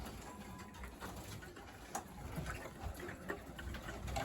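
Satinette pigeons coo softly at a bird show, faint and intermittent beneath a steady hiss of hall noise.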